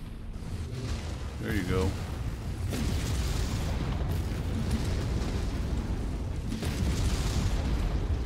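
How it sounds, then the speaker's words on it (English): Missile explosions in the mech combat video game MechWarrior 5: heavy booms and rumbling blasts roll continuously under game noise while someone talks briefly over the opening. "Incoming missile."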